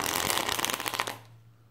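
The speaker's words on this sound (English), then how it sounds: "it still shuffles nicely with even all those cards in there" A deck of thick-cardstock Tarot of Delphi cards, enlarged with extra cards, is riffle-shuffled up close: a quick, crisp flutter of cards snapping together for about a second, then a soft settling.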